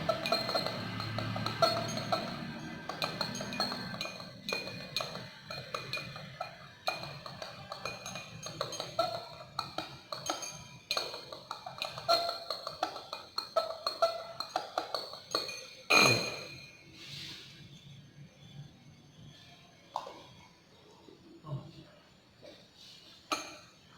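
A glass stirring rod clinks against glassware while 15 ml of HCl is stirred in a chemistry lab stoichiometry practical. Light, irregular clinks and taps repeat over a low room background.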